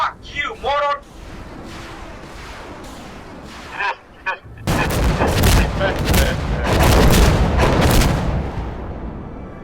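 Artillery and gunfire in an Insurgency: Sandstorm multiplayer match, with heavy dense booms and rattling shots filling the back half after a sparser opening where someone shouts over the noise.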